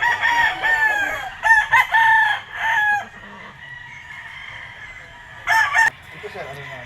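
A Red Kelso gamefowl rooster at a game farm crows several times in close, loud bursts with a brief pause between, then gives one more short crow after a quiet stretch with soft background noise.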